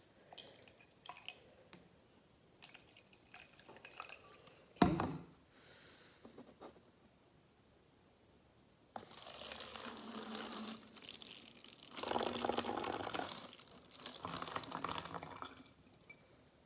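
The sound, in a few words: pouring vinegar into a water bottle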